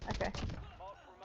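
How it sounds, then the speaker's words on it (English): Video game gunfire, a quick burst of several close, loud shots packed into the first half second, then fading reverberant tail and faint game ambience. "Who the fuck is shooting him?"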